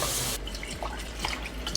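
Four cups of water poured into a rice cooker over basmati rice, olive oil and salt, a short close gush of splashing liquid.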